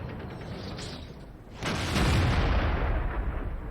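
A tank cannon fires in World of Tanks, with a KV-13 tier 7 medium tank in play: one heavy boom about halfway through, loud and close, followed by a dense rumbling tail over low mechanical noise.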